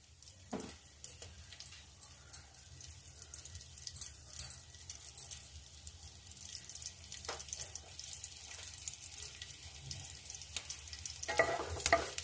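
Curry leaves and spices fry in hot oil for a dhokla tempering, a soft, quiet sizzle with occasional stirring scrapes and small clatters, fairly faint and steady throughout with no talk.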